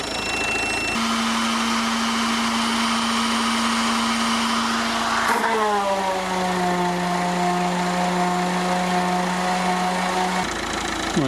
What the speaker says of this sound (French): La ponceuse 300 watts avec le convertisseur Lidl moteur éteint